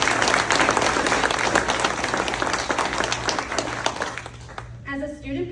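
A seated audience gives loud, dense applause after two scholarship recipients are named at a ceremony. The clapping fades slightly before a voice begins speaking at the end.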